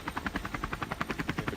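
A helicopter filming from above a mountain bike stage race in Israel produces a steady, loud, rhythmic rotor chop, with evenly spaced pulses continuing throughout and nobody talking.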